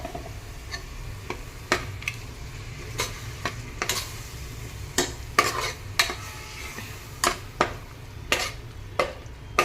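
Minced meat keema with ground tomatoes is stirred in a pan, with sharp spoon taps and scrapes against the metal at an irregular rhythm over a low, steady background of gentle sizzling.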